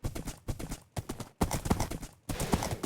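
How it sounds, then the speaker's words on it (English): A horse gallops in a video game, its hooves sounding in a steady, rapid clip-clop rhythm, close and prominent, broken by a few brief pauses. "Oh, this horse is actually faster."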